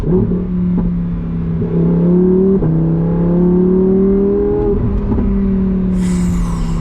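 A 2025 Lamborghini Huracan Tecnica V10 revs hard at full throttle from inside the car, a loud, close engine note climbing in pitch through several gear changes, each marked by a brief dip before the roar rises again.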